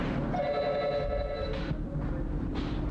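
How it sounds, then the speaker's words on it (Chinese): A telephone rings in a quiet traditional courtyard house in rural Tainan, a steady electronic ringing tone that runs through the whole stretch with a faint hum of the room beneath it. "电话声响，划破寂静的三合院。"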